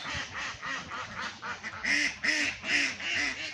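A busy flock of about 550 farm ducks quacks repeatedly, many overlapping calls close by, growing louder and more rhythmic toward the end.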